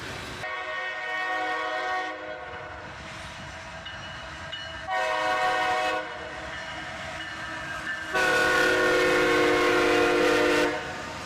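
An SD40-3 diesel locomotive rolls through a grade crossing, sounding three loud horn blasts, the last one longest, over a steady rumble of the passing train.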